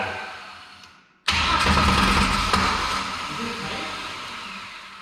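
After an engine install with a faulty starter, a brief quiet gives way to a sudden catch as the engine fires and roars loudly, then settles into a steady, gradually easing run nearby.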